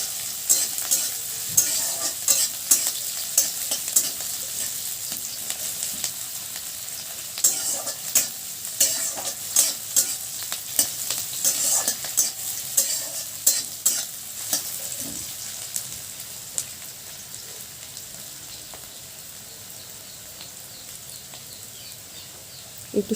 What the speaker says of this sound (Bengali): এটাকে এবার নাড়াবেন, যতক্ষণ না ভালো করে ভাজা হবে, একটু লাল লাল হবে ততক্ষণ নাড়িয়ে যাবেন।